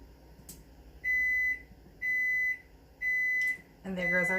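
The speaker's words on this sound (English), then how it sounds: "And there goes our timer." A kitchen timer beeps three times in even, steady bursts about a second apart while gluten-free pumpkin chocolate chip cookies bake, and a voice starts speaking right after the last beep.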